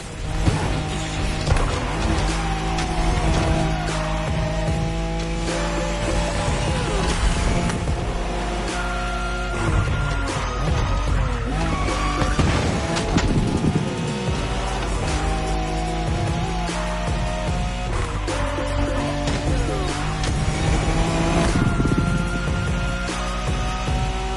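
A Nissan Skyline racing flat out along the Wangan Bayshore route in a video game, its engine droning steadily at high revs with shifting pitch and gear changes, loud and continuous throughout.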